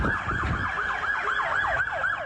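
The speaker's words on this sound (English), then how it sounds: "the Sherbrooke Hotel's Mitch Novick heard the sirens" A wailing emergency siren sweeps up and down in rapid repeating cycles, moderately distant, over low traffic rumble.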